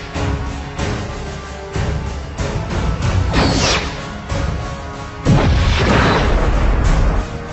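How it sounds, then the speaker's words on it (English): Romulan plasma torpedo fire in a Star Trek starship battle, a run of loud whooshing blasts and booming impacts with crashing bursts, several heavy hits in quick succession and no talk over them. "Oh, the Romulans are firing a plasma torpedo."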